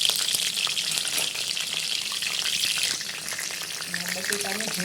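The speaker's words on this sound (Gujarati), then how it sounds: "હવે આ મરચાં નાખવાનું। મરચાંનો અવાજ આવે" Green chillies sizzle in hot oil with cumin in a pan, a loud, steady frying hiss with crackles and some stirring, heard up close and with no talking.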